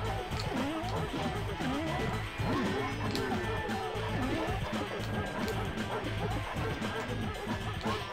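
Dog monsters bark and yelp in the video game Three Dirty Dwarves, in repeated barks over dense game noise and crashes, with a person talking throughout.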